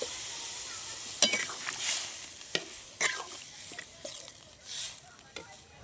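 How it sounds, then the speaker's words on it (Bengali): Kohlrabi, potato and shrimp curry in a pan hissing and sizzling softly as water goes in, with a few light stirring scrapes and clinks, fairly quiet. "এবার আমি পরিমাণ মতো জল দিয়ে দেবো।"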